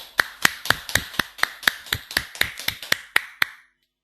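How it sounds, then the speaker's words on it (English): Crisp, evenly spaced claps, about fourteen in a steady rhythm and heard alone, applauding a participant in a GRE reading comprehension class before cutting off cleanly. "big round of applause for Naman."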